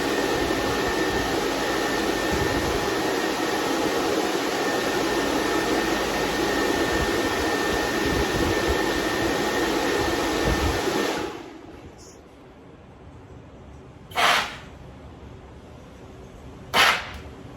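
A cooling fan on a vacuum forming machine blows a loud, steady broadband whoosh for about eleven seconds, then cuts off, leaving a quiet room broken by two brief sharp bursts of air.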